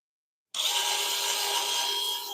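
Wood sanded on a lathe starts abruptly as a steady, close hiss with a faint motor hum underneath, holding evenly to the end.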